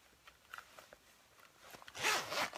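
A clothing zipper on a spring garment is pulled closed in one quick, fairly close rasping burst near the end, after a stretch of soft fabric rustling and handling.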